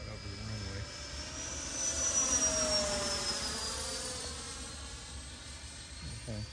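A Freewing A-4E/F Skyhawk 80mm RC jet with a burner-equipped setup passes over the runway. Its high whine swells as it approaches, then falls in pitch and fades as it moves away.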